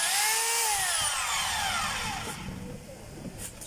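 A DeWalt D25032 rotary hammer in drill mode whines loudly up close, its motor pitch sliding steadily downward as it winds down, leaving a softer rumble.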